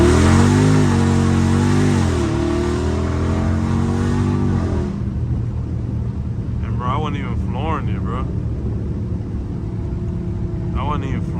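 A Dodge Charger Scat Pack pulls hard on the highway, its engine note climbing and then dropping at a paddle shift, and a steady loud cabin roar continues afterward while people talk and exclaim over it.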